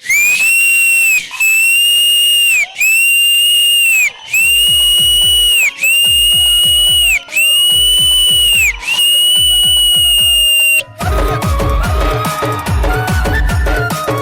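Whistling from a dance-show audience rings out as loud, shrill, sustained blasts, about seven in a row with short gaps, before music and crowd noise take over near the end.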